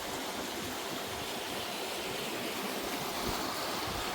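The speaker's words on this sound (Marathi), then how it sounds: "हा इथून पाणी शिरायची जागा आहे" Water rushes in steadily through an open sluice gate, a continuous broadband roar with no breaks, fairly distant and even in level.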